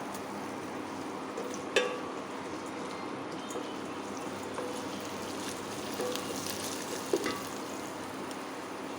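Onions and curry leaves fry in a pan for chicken curry, giving a steady close sizzle with a few sharp stirring clicks scattered through, and no talk.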